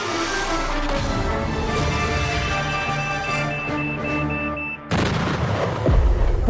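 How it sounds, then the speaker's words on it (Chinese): A loud game-show sound effect for a bomb exploding after a failed defusal: a sustained electronic tone and rumble that cuts off into a sharp booming blast near the end, heard close with no voices. "爆炸了！ 炸弹解除失败。"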